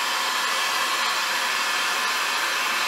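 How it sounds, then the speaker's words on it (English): A heat gun warming 5mm EVA foam gives a steady, loud, close blowing whoosh that holds even for the whole stretch with no voices. "then I'm going to heat it up with a heat gun"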